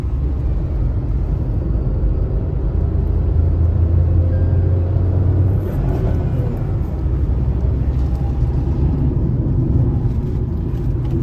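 Tata Altroz Turbo Dark Edition hatchback accelerating in third gear, a steady low engine drone with road rumble, heard from inside the car, loud and continuous.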